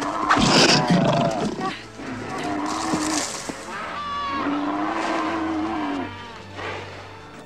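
A lion roars loudly and close, with several long, rumbling, rising and falling calls that fill the whole stretch without pause.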